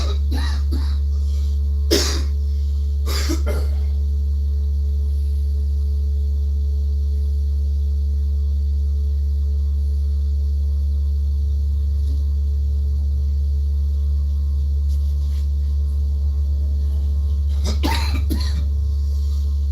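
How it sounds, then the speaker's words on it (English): A person clears their throat with a few short harsh bursts, followed later by another, over a constant low electrical hum in a quiet room. "I had to clear my throat."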